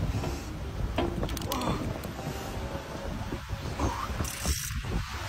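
Fishing reel cranked on a pier while landing a big fish, giving a steady mechanical creaking and ratcheting clicks close by, with a constant wind-like background hiss throughout.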